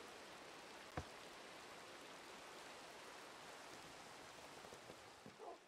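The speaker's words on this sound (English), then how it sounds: "Rain." Steady rain falls in the Minecraft video game, an even, continuous hiss with no speech and one brief soft knock near the start.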